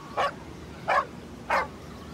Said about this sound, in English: Woof, woof, the dog barks.